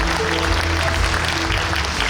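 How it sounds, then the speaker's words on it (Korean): An audience at a public forum in Suncheon breaks into sustained, loud applause, a thick continuous clapping with a faint low hum beneath it. "오늘 우리 순천 시민의 목소리를 귀담아 들어주신 우리 김영국 도시장님께 다같이 한번 뜨거운 박수를 부탁드리겠습니다."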